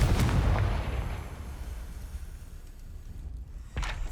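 A Confringo fire spell exploding in Hogwarts Legacy, a heavy booming blast that rumbles and slowly fades, then a second sharp burst near the end, loud and close with no speech.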